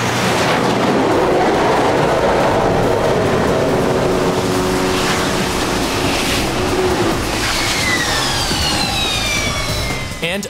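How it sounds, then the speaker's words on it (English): A jet-powered racing truck with two jet engines gives a loud, continuous roar that fills the whole stretch, steady and broadband, with rising whine tones near the end as it fades. "You got two jet engines strapped to your back."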